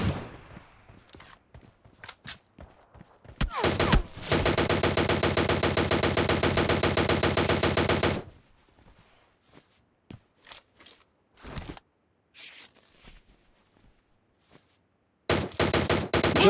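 Gunfire in the mobile shooter game PUBG Mobile Lite: scattered single shots, then a sustained four-second burst of rapid automatic fire, followed by sparse shots and another burst at the end, all loud and close.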